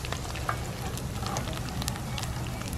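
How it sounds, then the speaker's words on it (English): Whole spices frying in hot oil and being stirred well for golden apple achar, a dense, even crackle and sizzle with faint spoon scrapes near at hand. "So Chloe's gonna go ahead and stir it up really well."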